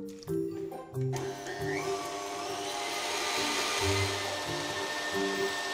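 An electric mixer whirs steadily while beating yogurt and two eggs into a chocolate cake batter, with short pulses and changes in motor pitch, and no talking.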